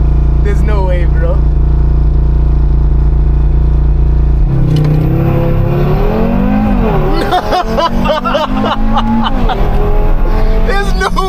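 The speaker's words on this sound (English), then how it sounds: "you're in a 5-pot, because the 5-pot just sounds different in all the aspects" Audi RS3 with a five-cylinder engine idles with a deep steady drone, then revs and accelerates loudly with rising, warbling engine tones close by, while people talk over it.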